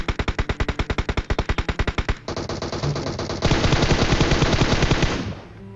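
Gunfire in the video game PUBG Mobile: a rapid burst of evenly spaced shots, then denser overlapping automatic fire that grows louder before cutting off, with no talking.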